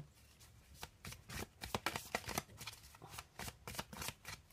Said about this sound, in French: je vais faire tout mon petit truc pour sélectionner les cartes